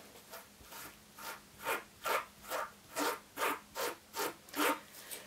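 An acrylic stamp for scrapbooking is wiped clean with a rhythmic back-and-forth rubbing, about eleven evenly spaced scrubbing strokes, close and fairly quiet, with no voices.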